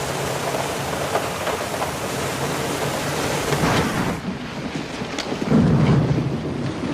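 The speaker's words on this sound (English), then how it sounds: "Haven't quite seen a storm like this before, have you?" Heavy thunderstorm with steady loud rain and deep rolling thunder, a continuous roar that swells near the end, with no talking.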